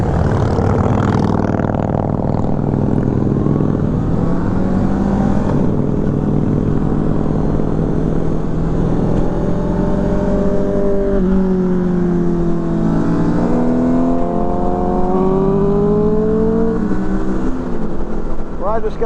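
A group of motorcycles passes on a rural country road, their engines droning and rising in pitch as they go by, steady and loud against continuous wind rush from a riding motorcyclist's own bike, with voices talking over the top.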